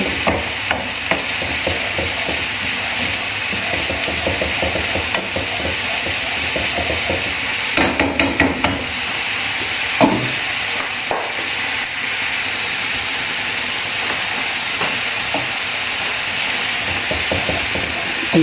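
Stroganoff ingredients browning in a hot pan, a dense continuous sizzle and hiss with occasional stirring knocks, close and loud throughout.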